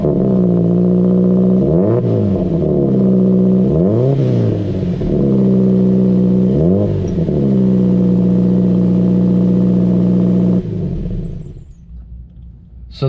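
A car with an aftermarket exhaust cold starts into a loud, steady idle, with deep burbling rumble and several sharp revs blipping up and settling back before the engine drops to a quieter idle near the end.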